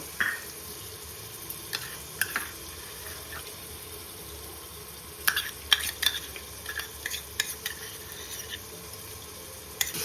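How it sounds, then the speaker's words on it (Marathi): Pav bhaji fries in a pan as a spoon stirs garlic paste into it, giving soft scraping and wet clicking strokes over a faint, steady sizzle. "चांगली ढवळून घ्यायची"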